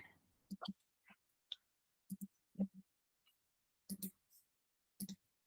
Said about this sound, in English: Sorry, it's a lot of clicking here.